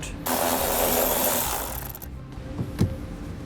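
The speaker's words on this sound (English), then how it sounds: "we're going to have a 10mm bolt that we're going to have to remove to get the panel all the way out" Removing a 10mm bolt from an interior panel of a 2017 vehicle with a power tool, a near, fairly quiet buzzing whir for about a second and a half, then a few faint clicks.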